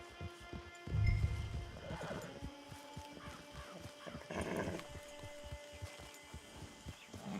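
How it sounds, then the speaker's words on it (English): A horse in Red Dead Redemption 2 snorts and whinnies near the camp, its hooves clopping in an uneven rhythm around a louder neigh, all moderately faint. "Get your horse."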